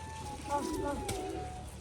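Pigeons coo softly near a rooftop loft, with low rounded calls over a quiet background while a person talks.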